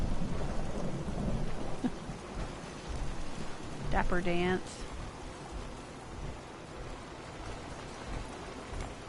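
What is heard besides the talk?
rain and thunder in the video game Fallout 4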